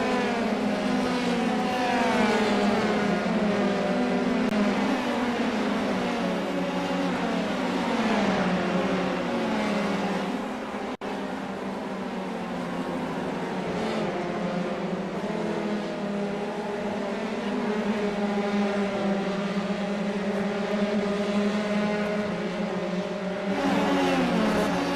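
Formula 3 race cars in a racing video game at Suzuka blare continuously, their engine notes rising and falling as several cars run close together through the hairpin, with no voices.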